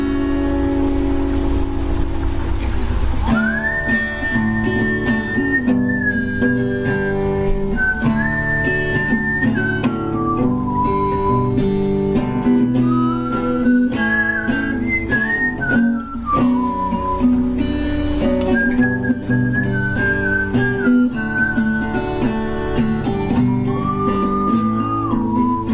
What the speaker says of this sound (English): I don't know why I decided to whistle in the middle.